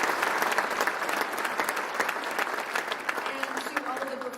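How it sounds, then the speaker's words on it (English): Sustained applause from a theater audience, dense steady clapping that holds throughout and tapers slightly near the end. "So a huge round of applause for Jessica Grove"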